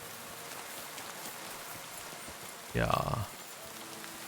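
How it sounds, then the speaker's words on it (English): Heavy rain falls steadily in the medieval open world of Kingdom Come: Deliverance II, a constant soft hiss with a brief louder thump partway through and a single short spoken word. "it is raining pretty heavily"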